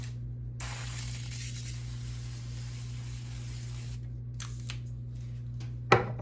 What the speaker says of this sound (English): I'm going to spray them with some avocado spray.